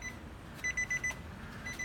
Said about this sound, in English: Sorry for the beeping noise.